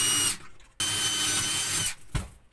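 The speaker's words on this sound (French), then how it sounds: "Maintenant, on va se faire deux petits trous pour y visser les vis." A power drill boring two small screw holes while installing a UV lamp filter in a 4x4 camping trailer: two loud, close, high-pitched whining bursts separated by a short pause, ending with a brief clunk.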